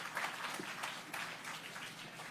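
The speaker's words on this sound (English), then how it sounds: "Round of applause again, please." Crowd applause at a groundbreaking ceremony for the Spanish Town Hospital redevelopment, a brief burst of many hands clapping at moderate volume with a scattered, uneven texture.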